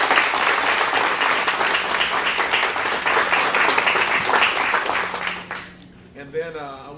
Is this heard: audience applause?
yes